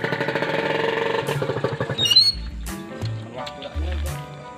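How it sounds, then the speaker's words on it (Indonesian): A Kawasaki Ninja R motorcycle engine runs with a rapid, throbbing putter, then revs and sputters unevenly, loud and close, with low synthetic tones sounding underneath. "Jadi ini kita mau tes dulu. Silakan Ki, dites dulu Ki. Aduh, suaranya berisik banget ya"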